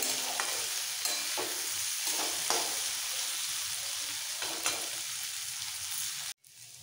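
Bitter gourd and pumpkin stir-fry over a low-medium gas flame, sizzling steadily with repeated scraping stirs at an irregular rhythm, then cutting off abruptly near the end.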